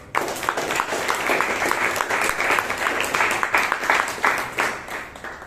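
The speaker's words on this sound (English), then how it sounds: "Prakash, let's give a round of applause." A Toastmasters meeting crowd in Bangalore breaks into a round of applause, a thick, continuous wash of clapping with a few sharper individual claps standing out, holding steady throughout without talk on top.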